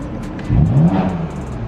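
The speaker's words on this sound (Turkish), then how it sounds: "arabanın egzoz valfi açılıyor ve daha fazla ses veriyor araç." A BMW M4 engine with its exhaust valve open gives one brief, throaty rev that swells and falls away over a steady background hum.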